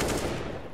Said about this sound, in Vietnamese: Cuối cùng thì lại không thể thoát khỏi họng súng của Toto